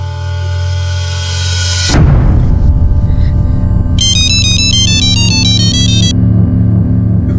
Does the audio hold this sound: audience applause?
no